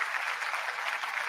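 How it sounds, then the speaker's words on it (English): Applause for a show member, a steady wash of clapping from a crowd that holds at an even level through the short stretch with no voices over it. "Y'all give Shay Boost a round of applause, man."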